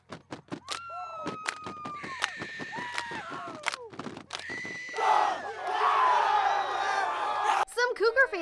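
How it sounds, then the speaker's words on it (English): Crowd of high school football fans cheering loudly after a season-opening win, a burst of yelling and whooping that follows spoken counting and rises into a sustained roar before breaking off. "Take us out with the cheer, guys."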